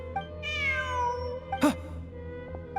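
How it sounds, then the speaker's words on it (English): A cat meows in the Genshin Impact desert quest, one clear drawn-out falling meow over soft ambient game music, followed by a brief sharp click. "Look! A cat!"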